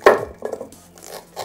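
A knife cuts corn kernels off a cob standing in a bundt pan, giving one sharp metallic clank followed by a few soft scraping cuts, close and brief.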